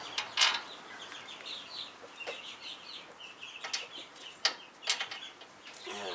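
Small metallic clicks and scraping taps as brake bracket bolts on a Land Rover LR3 are threaded in by hand, faint and close, in irregular bursts.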